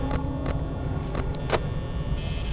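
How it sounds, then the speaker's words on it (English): Several heavy footstep thuds land at uneven intervals over a constant droning background, some sharper and closer than others. "I hear stomping all around me."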